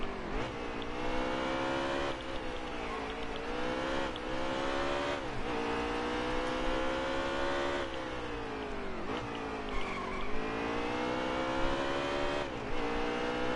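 NASCAR race cars howl through lap traffic at Sonoma in a racing video game, with a loud continuous engine roar that rises and falls through repeated upshifts and downshifts, alone with no talk.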